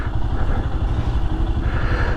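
A motorcycle rides through a jammed city street, its mid-pitched engine chugging steadily and close, with traffic noise around it and no talk.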